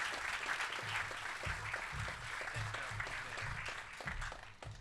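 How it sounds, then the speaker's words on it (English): An audience at a product unveiling event applauds, a fairly faint, steady wash of many hands clapping that carries on throughout without pause. "a round of applause for all the people here who are making that happen"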